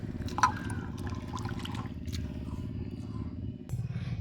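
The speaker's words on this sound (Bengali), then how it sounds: "চিড়েটা খুব ভালো করে আমি ধুয়ে নেব" Flattened rice (chire) being washed in water, with a steady soft sloshing and trickling, close by and moderately quiet, plus a brief brighter splash near the start.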